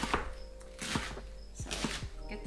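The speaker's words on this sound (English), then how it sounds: "So get the cabbage all shredded and chopped up." A knife chops and shreds cabbage on a board in a home kitchen, making a quiet series of irregular thunks and crisp cuts, close up, with no talking.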